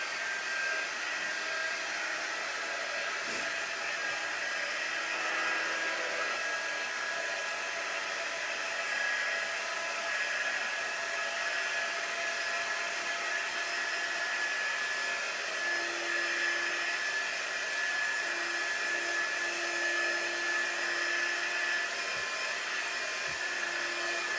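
A hair dryer or similar blower drones at a constant, even level for the whole stretch, drying a crafted Home Sweet Home sign with no talking.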